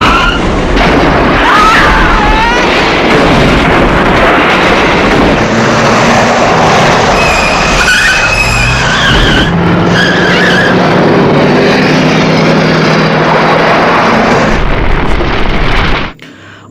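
A car in an action movie skids and explodes, then flies through the air and burns: loud, continuous roaring blast and screeching noise with crackling bursts, dense and unbroken until it cuts off abruptly near the end.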